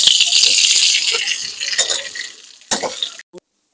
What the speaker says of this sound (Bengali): এবার পেঁয়াজটাকে আমি তেল থেকে তুলে নিচ্ছি।